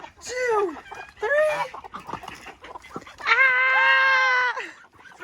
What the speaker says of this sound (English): Now it's time to get attacked by chickens.